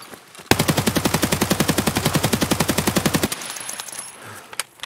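Automatic weapon fire in Escape From Tarkov, a loud sustained burst of rapid, evenly spaced shots lasting about three seconds, then abrupt quiet with faint scattered clicks.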